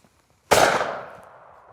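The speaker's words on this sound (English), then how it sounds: "And firing the gun by using the over barrel first" A single loud, close shotgun blast from a Miroku MK11 over-and-under fired at a clay target, with a sharp crack and a short decaying tail.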